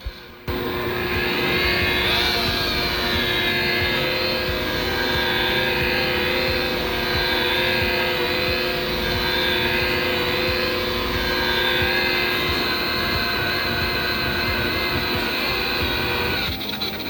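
A rotary buffer polishing a car's paint in tight spots around cobalt emblem lettering, a steady close motor whine with a polishing hiss running continuously, with no talk.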